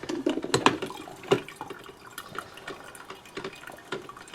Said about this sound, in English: It's making coffee.